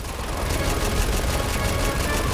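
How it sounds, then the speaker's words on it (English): Rapid, continuous bursts of gunfire crackle densely over a rumbling low backdrop, like sustained automatic fire in Resident Evil 6. "That's the sound of me trying to shoot."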